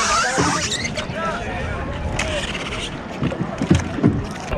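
A small boat rides on the water at Oslob, Cebu, with engine and water noise running steadily, some squeaky creaks, and people talking throughout.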